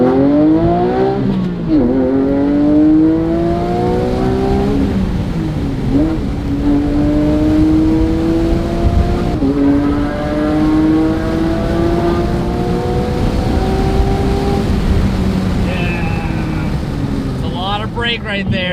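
A Porsche 997.2 GT3 with the Gentlemen's Spec Performance Package howls on track, its flat-six climbing through the revs in long rising pulls with brief dips at upshifts, loud and close from inside the car.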